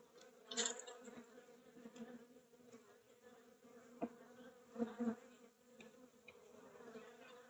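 Honeybees swarm and hum steadily around a beehive opened for a spring inspection, a dense buzzing drone that rises and falls as insects fly close, with a few soft knocks from the hive boxes.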